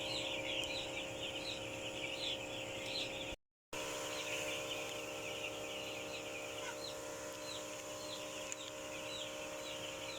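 Six-day-old chicks in a farm brooder chirp constantly, a dense flock of high peeping calls over a steady background hum.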